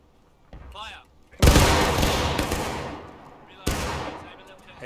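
Musket volley in the War of Rights Civil War game: two sudden, loud massed rifle blasts with a long, rolling echo, the first larger, a quick voice heard just beforehand.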